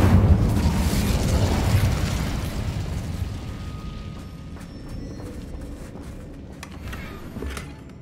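Incendio fire spell cast in the video game Hogwarts Legacy, a loud fiery burst that roars at the start and then fades into a sustained rumbling crackle with small pops, heard alone.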